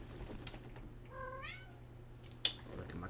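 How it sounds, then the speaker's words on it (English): A house cat meows in the background of a room, one drawn-out rising-and-falling meow of moderate loudness, followed by a sharp click and faint background noise. "Look at my cat in the background."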